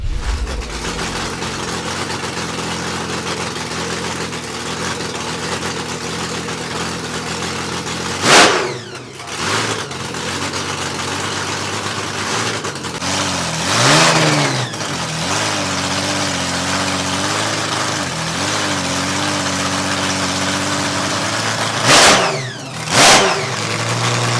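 A Holden six-cylinder drag racing car engine idles with a deep rumble and revs up hard several times, rising and falling in pitch, loud and close throughout, at a nostalgia drag racing event.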